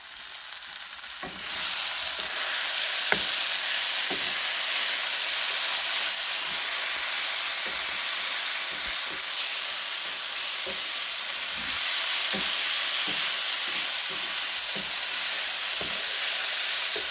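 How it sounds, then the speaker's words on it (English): Chicken sizzles and fries steadily in a pan, a constant hiss with occasional crackles and pops, close and fairly loud throughout. "Go stir this chicken. Hear it sizzle."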